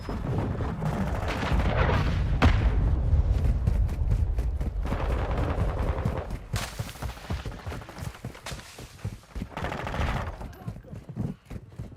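Rapid gunfire and heavy explosive booms in the Call of Duty Modern Warfare II video game, loud bursts of automatic fire with a dense low rumble early, then sharper spaced shots and sporadic bursts.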